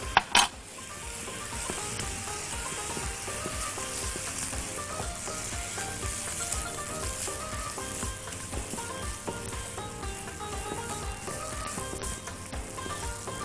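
Couscous with chicken being stirred in a pot: a constant close sizzle and crackle of the hot pot, with soft scraping of the stirring spoon running underneath, steady throughout and without speech.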